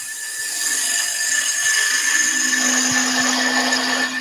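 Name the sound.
wood lathe, spindle gouge shearing edge of spinning top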